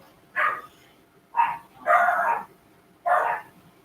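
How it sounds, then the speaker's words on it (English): Several dogs bark in four separate bursts, each a loud close bark or short cluster of barks with brief quiet gaps in between, heard in a home with no talking. "that is the sound of my dogs."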